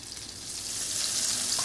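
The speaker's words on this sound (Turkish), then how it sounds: "Tarifim için tavamın içerisine 1 yemek kaşığı dolusu tereyağı ekledim." A tablespoon of butter with a little vegetable oil melts in a frying pan, giving a steady, close sizzling hiss that builds slightly and continues without a break.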